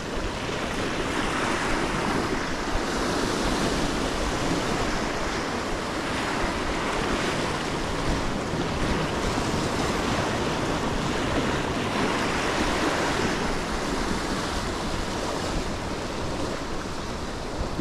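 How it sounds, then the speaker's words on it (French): Ocean waves break and surge continuously on a shore, a broad roaring wash close to the microphone with wind buffeting throughout and no one speaking. "il y a trop de vagues, trop dangereux"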